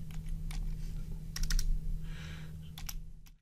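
A stock ticker is tapped out on a computer keyboard: short clusters of crisp, close keystrokes come in quick bursts separated by pauses, over a steady low electrical hum.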